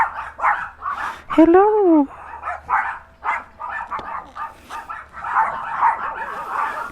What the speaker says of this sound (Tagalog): daming aso mga pre